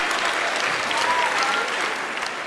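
Audience applause at a Hindi comedy poetry show, a Hasya Kavi Sammelan, with a steady, dense roar of many people clapping, loud and sustained across the whole stretch without letting up.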